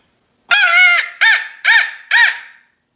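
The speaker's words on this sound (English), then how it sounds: "Good, high-pitched call that'll definitely make them gobble." A Quaker Boy turkey call is blown in four loud, close, high-pitched yelping notes, one long note and then three shorter ones in an even rhythm, each set apart by silence.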